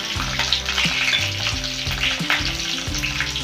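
Mustard seeds sizzle in hot oil with dense crackling and spitting, close and loud, alongside faint stirring and scraping in the pan.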